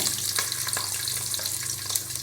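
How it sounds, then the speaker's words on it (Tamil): Shallots and garlic sauté in hot oil with mustard seeds and cumin, giving a dense, close, even crackling sizzle with a few soft spoon scrapes and no voices. "பூண்டு, நல்லா வதக்குங்க"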